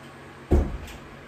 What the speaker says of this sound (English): I'll first close the door.